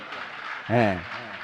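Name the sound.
audience applause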